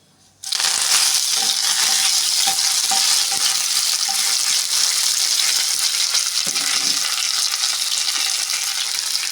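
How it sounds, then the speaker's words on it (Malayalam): Mustard seeds and curry leaves drop into hot oil for vegetable biryani, bursting into a loud, dense sizzle after a brief silence and crackling steadily and close throughout. "കടുക് ഇട്ടു. നമ്മൾ കറിവേപ്പില ഇടുന്നുണ്ട് ഞാനിതാ."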